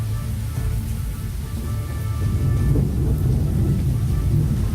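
Rain and rolling thunder in the adventure game Lost Horizon, a low, heavy rumble under a constant rain hiss that swells louder about halfway through and stays steady, with no talking.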